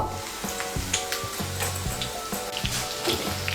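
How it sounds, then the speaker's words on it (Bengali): Chicken pieces frying in hot oil in a pan on medium heat, giving a close, continuous sizzle broken by repeated stirring clinks and scrapes at an uneven rhythm, with no voices. "আমি আঁচটা মিডিয়াম করে চিকেনের টুকরোগুলো লাল করে ভেজে নেব।"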